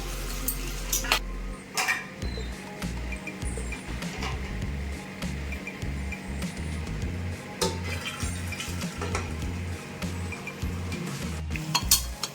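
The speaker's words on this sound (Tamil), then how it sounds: "நண்டு போட்டு கொஞ்சம் நல்லாவே இந்த அளவு நல்லா வதங்கணும்" Crab pieces are stirred and sautéed in a pan, with a steady sizzle under frequent metallic clinks and scrapes of the utensil against the pan, close by and with no talking.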